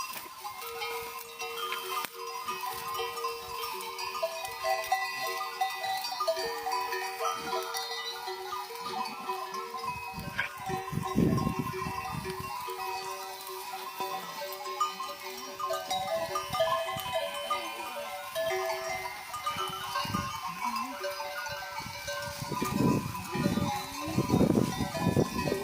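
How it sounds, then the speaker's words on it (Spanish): A large herd of goats grazes in a wheat field on a village farm, with scattered bleats near and far over steady rustling and movement throughout. "Las cabras en medio del trigo."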